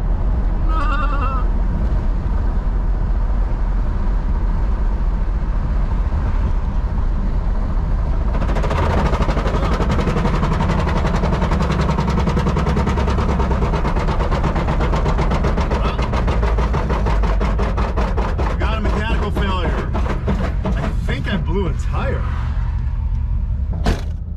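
A loud, raspy car engine with a holed exhaust drones throughout, growing harsher and rattling midway, with popping exhaust bursts toward the end and someone talking over it.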